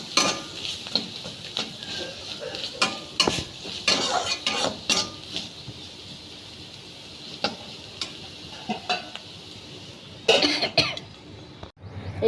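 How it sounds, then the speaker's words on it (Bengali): Semolina batter fries in a pan with a little turmeric and chilli powder, giving a soft close sizzle broken by repeated stirring scrapes and clinks of a utensil against the pan. "দিয়ে এটাকে আর একটু ভেজে নেব।"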